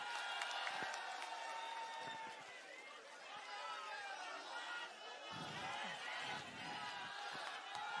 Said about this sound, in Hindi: जोरदार तालियां हो जाए संजय सिंह जी के लिए